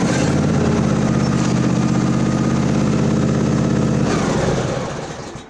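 A Briggs and Stratton engine on a John Deere riding mower runs nearby with a steady, throbbing putter, then dies away and fades out at the end as it shuts off.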